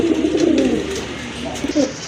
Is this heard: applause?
no